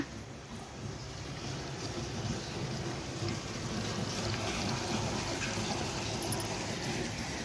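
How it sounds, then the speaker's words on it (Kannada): Continuous rushing of borewell water flowing, a steady broadband wash with a faint windy edge, holding constant throughout. "ಉನಾರಂಟಿಯರು ನೀರು ಬಿಟ್ಟಿದ್ದಾರೆ ನೋಡ್ರಿ, ಬೋರ್ ನೀರು ಬಿಟ್ಟಾರ"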